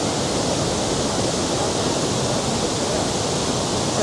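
YS Falls waterfall in St Elizabeth, Jamaica: a steady, loud rush of falling water roaring without a break, dense and close, with no voices heard.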